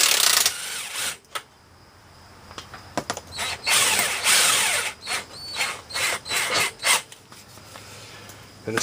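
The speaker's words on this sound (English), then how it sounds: "These are all 15mm on both ends, so I should be able to use my impact to get these out." An impact wrench loosens 15mm bolts on the rear hitch of a Can-Am Outlander ATV. It fires in loud, rattling bursts with brief scraping pauses between them, and there are mechanical clanks between the runs.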